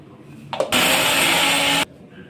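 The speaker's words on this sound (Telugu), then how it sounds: "మెంతులు, ఆవాలు డ్రై రోస్ట్ చేసుకున్నాం కదా, ఇది మిక్సీ పట్టుకోవాలి." A mixer grinder grinding dry-roasted fenugreek and mustard seeds roars loudly for about a second after a brief click, then cuts off abruptly.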